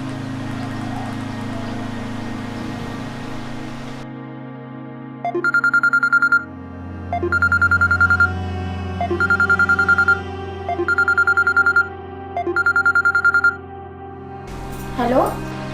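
A telephone rings with five evenly spaced melodic ringtone bursts, each about a second long with short gaps, following a stretch of background sound and ending with a voice.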